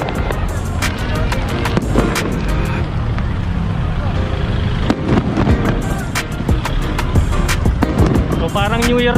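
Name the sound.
fireworks exploding at seaside mall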